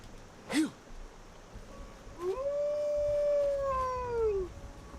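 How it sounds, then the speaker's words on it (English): A dog's drawn-out howl in Skyrim, a rising, sustained, wavering cry lasting a couple of seconds after a brief sharp yelp, heard over quiet game ambience. "that was the dog, not the fish"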